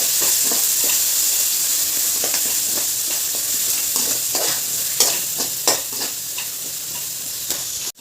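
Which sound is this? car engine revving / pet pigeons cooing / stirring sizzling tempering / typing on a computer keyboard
stirring sizzling tempering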